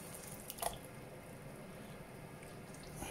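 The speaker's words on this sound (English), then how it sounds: "now I'm going to fill the can with water and add that to it" Tap water runs steadily into an empty passata can, a soft continuous splashing hiss with a brief clink near the start, close by and without talk, while making a homemade hot chilli sauce.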